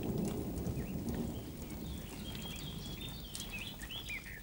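Rain patters on a paper wasp nest outdoors as a soft, continuous hiss of drops, faint and close, with a few birds chirping lightly in the background.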